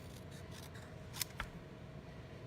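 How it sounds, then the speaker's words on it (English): Small scissors snip a stamped piece of So Saffron cardstock, two quick crisp cuts close by against a quiet room background. "I'm just going to use a little scissors to"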